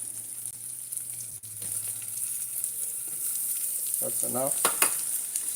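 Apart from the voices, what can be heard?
onions frying in a pan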